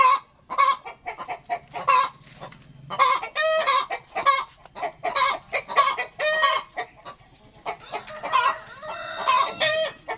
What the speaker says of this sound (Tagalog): Inang manok lang ito.